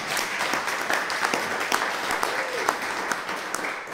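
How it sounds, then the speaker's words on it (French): An audience applauds at a French-language church retreat, with steady dense clapping throughout and a few sharper claps standing out over the crowd. "Et bravo, on les applaudit."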